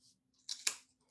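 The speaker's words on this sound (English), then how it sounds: "Cut right through this twine." Sharp scissors snipping through thick twine for a craft tassel, a single quick crisp cut with a brief rasp, close and quiet against a faint steady hum.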